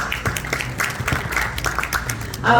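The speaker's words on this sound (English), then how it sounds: "Round of applause." Applause breaks out from a community event audience as individual claps in an uneven rhythm, moderately loud, ending in a brief louder burst.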